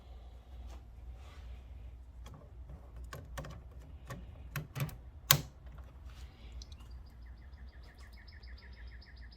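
Ink cartridges clicking into place in an Epson WorkForce printer being converted to eco solvent ink: a few sharp, close plastic clicks and snaps amid faint handling noise, followed by soft electronic beeping chirps from the printer.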